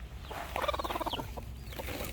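A goose brooding in a coop with chicks gives a rapid, pulsing cackle, a burst of quick guttural notes over a noisy low background, fairly faint and distant.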